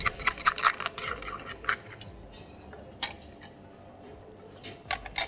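A spoon scratching scallop meat from its shell, a run of small metallic scrapes and clicks, close and fairly quiet, bunched at the start with a few sharp scrapes later.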